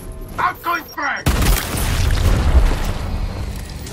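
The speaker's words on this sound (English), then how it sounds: "Outgoing frag!" A frag grenade detonates in Gears Tactics, a loud close boom that follows brief speech and trails into a long rumbling decay.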